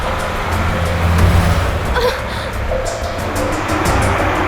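A car drives along with a low, steady engine and road rumble, heard from inside or close by, with brief thumps and some faint voices mixed in over the drone.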